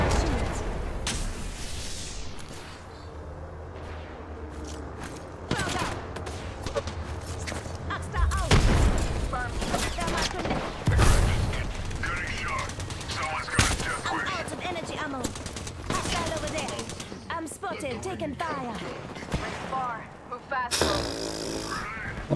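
Heavy firefight in the video game Apex Legends: repeated bursts of automatic gunfire and loud booming impacts over about twenty seconds, with voices talking in between the shots.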